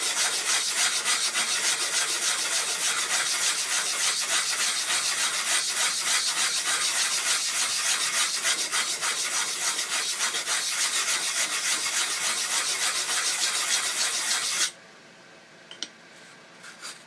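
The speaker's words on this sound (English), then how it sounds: "Now we're going to use this side here to dress one of these sides, so that what we end up with is very fine side." One sharpening stone is dressed against another in a continuous, close, gritty rubbing that scrapes back and forth for several seconds, then stops abruptly, followed by a couple of faint taps.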